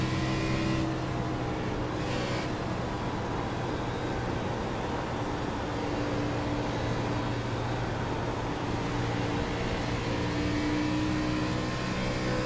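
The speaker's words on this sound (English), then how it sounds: "I think the engine noise and everything is much better now" A simulated race car engine in an iRacing Xfinity Series event at Atlanta Motor Speedway drones at a steady high pitch throughout, held at a constant moderate loudness with a faint rumble underneath.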